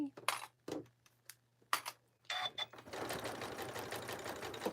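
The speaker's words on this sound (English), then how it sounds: "Now I'm going to sew over my tag here." Close, scattered clicks and taps are followed by a sewing machine running steadily while it stitches over a tag on a zippered fabric pouch.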